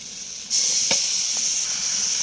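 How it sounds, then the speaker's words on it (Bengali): Small garden potatoes fry with spice paste in a pan, a loud close sizzle that jumps up sharply as the paste hits the oil, then hisses on steadily with a brief stirring scrape, no voices. "মশলাটা দিয়ে দিয়েছি, মশলাটা আলুর সাথে ভালো করে কষিয়ে নেব"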